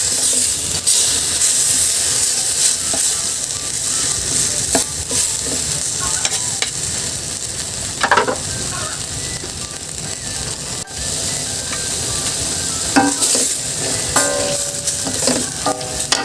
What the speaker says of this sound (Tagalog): Haluin natin. I-mix natin mabuti para yung ating oyster ay ma-mix.